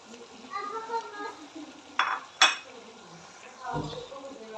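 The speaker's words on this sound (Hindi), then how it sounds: "ये अच्छी तरह फ्राई हो रहा है हमारा चिकन" Chicken frying in a pan with capsicum and corn, a faint steady sizzle with a couple of sharp utensil clinks against the pan and a low scrape of stirring, while a person talks.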